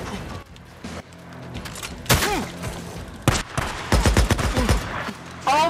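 Rapid gunfire bursts and sharp shots from the video game Days Gone, loud and close, arriving in irregular volleys with metallic mechanical clatter between them.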